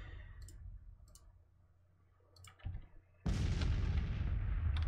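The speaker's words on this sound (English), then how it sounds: "Okay, but the cannons are firing," Civil War cannons firing in Grand Tactician, faint clicks and a muffled distant boom, then a loud sustained roar of artillery fire that begins suddenly partway through and continues to the end.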